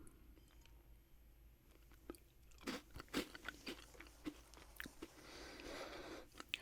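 Crunchy bites and chewing of a cracker soaked with serrano pepper hot sauce, close and quiet, a series of sharp crackling bursts in an irregular rhythm with soft chewing between.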